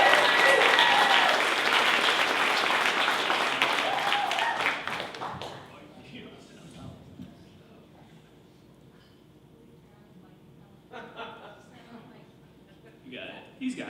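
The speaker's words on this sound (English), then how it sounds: "Let's make some noise for Patrick." A conference audience at a Startup Grind event in Buffalo applauds a speaker. The clapping is loud and dense for about five seconds, then fades into quieter room noise and scattered taps.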